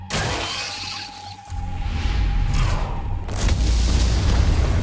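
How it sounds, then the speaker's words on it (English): Deep booming blasts and crackling bursts like fireworks going off in underground ant tunnels in Solo Leveling, a loud rumbling barrage with a sharp crack near the middle and sustained low thunder throughout. "Looks like fireworks are going off in the ant tunnels."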